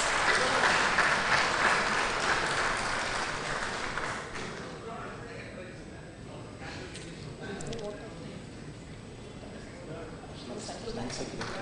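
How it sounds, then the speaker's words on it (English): Audience applause for prize winners at a bank officers' association golden jubilee ceremony, steady clapping loud at first then thinning and continuing more softly. "Please give them a huge round of applause."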